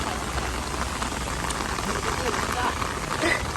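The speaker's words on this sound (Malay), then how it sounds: "Hujan ni. Hujan." Heavy rain patters on a surface close by at a roadside in a dense, even hiss, with no voices.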